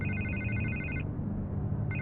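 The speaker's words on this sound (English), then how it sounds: "I can't get the phone to stop ringing" Phone ringing in Batman: The Telltale Series, an electronic ring tone that sounds for about a second, pauses, then starts again, over a low background hum.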